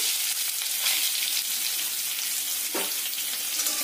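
Cut potatoes frying in hot oil, a dense, steady, close sizzle that keeps going throughout with no pauses, broken only by a brief clunk of a utensil partway through.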